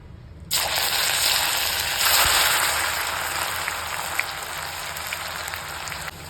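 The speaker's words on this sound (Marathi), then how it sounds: "तर आता आपण तळून घेऊया तेल तापलेलं आहे तर आता कारलं टाकून घ्यायचे" Bitter gourd (karela) hits hot oil and sizzles loudly at once, a steady, dense frying hiss that carries on close-up for several seconds with a few small pops, no talking.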